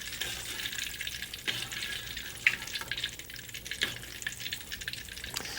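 Eggplant pieces crackle and bubble in hot ghee, a steady quiet sizzle broken by occasional sharp pops and clinks of a utensil in the pan.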